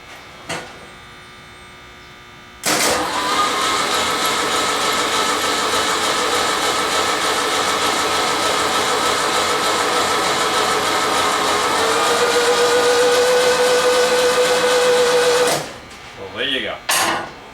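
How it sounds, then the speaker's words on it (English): A Volkswagen double cab engine with its spark plugs removed spins over on the starter in a steady, loud, continuous whir for about thirteen seconds, then stops abruptly. "we'll spin it without the plugs in it"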